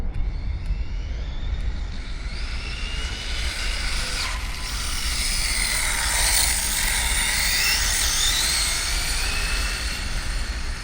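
An Arrma Typhon RC car on a 6S battery screams past at high speed, its whining motor rising and falling as it passes near and then moves away over a steady broad rush of noise.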